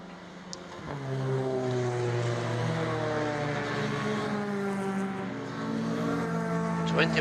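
Touring race cars on a warm-up lap at the DeWALT Grand Prix 2023 Baltic Touring Car Championship, engines droning steadily at a distance with rising and falling harmonic tones throughout, no talk.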